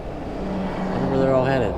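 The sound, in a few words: fifth wheel trailer passing by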